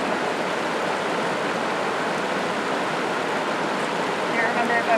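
Stream water rushes and gurgles steadily at a field sampling site, a close, continuous broadband wash with no breaks.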